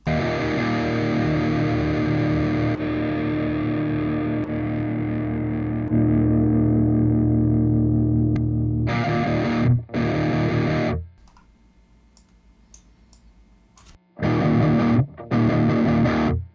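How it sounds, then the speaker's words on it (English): Distorted electric guitar through a NeuronTube Tangie amp sim panned to the left side, a long sustained crunchy chord ringing out, then short chugged bursts separated by a near-silent gap, loud and alone. "Now our guitar is only to the left side"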